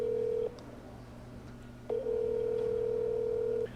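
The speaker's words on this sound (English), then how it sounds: "let's call my grandpa" A phone call placed on speaker gives a steady electronic tone that stops briefly, then returns as a long sustained ringing tone, fairly faint against a low background hum.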